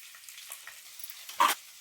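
Garlic drops into hot oil for tempering in a homemade cluster bean (gawar) dish, giving a short, bright burst of sizzling over a quiet stovetop hiss.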